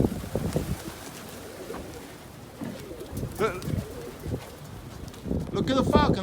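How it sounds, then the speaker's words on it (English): Pigeons flutter and coo outdoors at a loft while fighting, with soft coos and scuffles in gusty wind and a voice talking over parts of it. "Yo, Tony, they're fighting over your birds, Tony"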